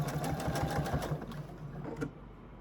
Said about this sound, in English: I'm gonna slip it under the needle, and here we go.